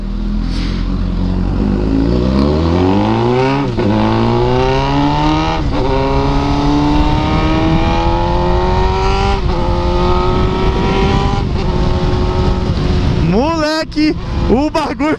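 Car engine fitted with a custom-made exhaust revs hard and loud, pitch climbing steadily through a long pull before dropping and crackling near the end, with a voice briefly audible over it.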